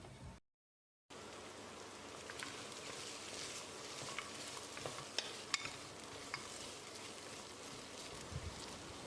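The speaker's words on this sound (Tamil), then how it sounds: "இப்போ நம்ம க்ளீன் பண்ணி வச்சுருந்த ஆட்டுக்காலை போட்டு பிரட்டி விட்டுடலாம்." Cleaned goat legs stirred and sautéed in a hot pan for goat leg soup, giving a steady sizzle with scraping stir noises after a brief silent gap at the start, no talking.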